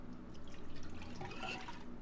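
Warm water is poured into a pot holding yeast and salt for no-knead artisan bread, making a soft, steady splashing trickle that lasts about two seconds.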